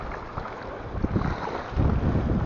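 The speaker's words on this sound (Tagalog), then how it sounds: "Lakas ang hangin eh." Strong wind buffets the microphone beside open water during a fishing trip, a deep rumbling roar that swells and gusts louder toward the end, with no talk.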